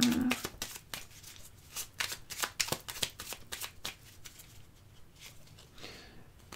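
A deck of tarot cards is cut and handled, giving a quick run of crisp riffling clicks and flicks that trail off into softer shuffling, close and without talk.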